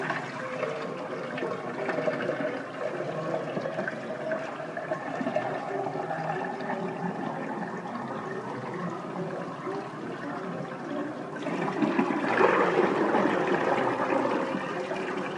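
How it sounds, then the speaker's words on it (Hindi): Water poured from a jug into a blended kadhi mixture, a steady gurgling, splashing stream running continuously at moderate volume, growing slightly louder toward the end. "थोड़ा पानी और डालेंगे।"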